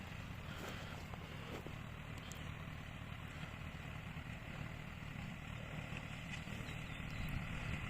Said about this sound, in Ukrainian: Трактор у нас Маккормік 110, сівалка Amazon D940.